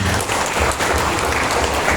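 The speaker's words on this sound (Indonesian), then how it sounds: "Tepuk tangan untuk dia." A burst of steady applause from a crowd, loud and sustained for a couple of seconds.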